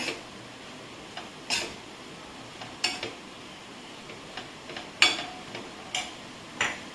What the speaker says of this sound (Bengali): এটাকে ভালো করে মিলিয়ে নিতে হবে।